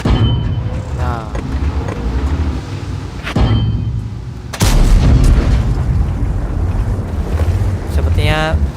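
Tank cannon fire in World of Tanks: a sharp, loud blast cuts through a steady, rumbling engine-and-wind bed, with an earlier, smaller crack, and a voice talks over the noise.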